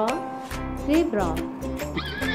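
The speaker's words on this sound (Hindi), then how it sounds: "Zebra," A zebra whinnies in a short, shrill, wavering call, heard clearly over a steady children's nursery-rhyme beat.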